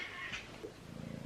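A house cat meows and caterwauls up close, a short drawn-out call followed by a softer rumbling, quiet and alone.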